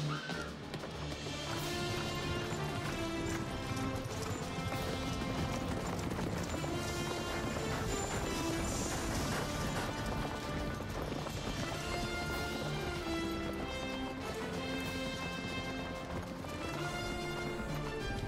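A horse gallops with rapid, steady hoofbeats, loud and close, under a dense swell of music throughout.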